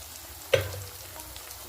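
Ginger garlic paste, green chillies and onions frying in a pan with ghee, a soft steady sizzle broken by one brief louder spit, close and quiet with no voices.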